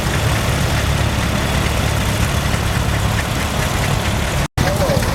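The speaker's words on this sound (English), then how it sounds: "this single-cylinder gas tractor" A single-cylinder gas tractor engine chugs steadily at an outdoor gas and steam engine show, a close, loud, continuous running drone with one momentary cut near the end.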